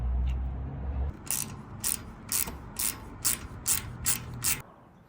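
A ratchet wrench removing security bolts from a Baja Designs LP6 light mount, giving a close run of eight evenly spaced clicking bursts after a low rumble fades.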